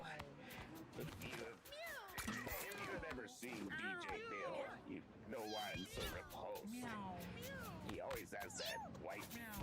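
Cats meow repeatedly in the video game Mewgenics, a string of short, varied meows and yowls close by, with someone talking over them.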